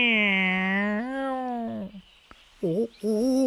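A cat meowing in a Dutch-language radio story: one long, drawn-out, rising and falling meow, then two shorter meows after a brief pause, loud and close.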